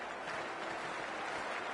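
A cricket stadium crowd at a Big Bash League match between Melbourne Renegades and Perth Scorchers applauds in a steady, dense wash of clapping throughout.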